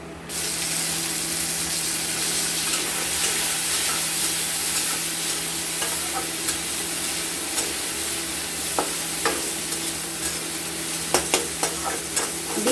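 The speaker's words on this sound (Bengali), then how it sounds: "এবার দিয়ে দেবো আমরা টমেটো।" Chopped tomatoes hit fried onions and boneless chicken pieces in a wok for a kabuli chickpea ghugni, giving a loud, steady sizzle broken by scraping stir clicks toward the end.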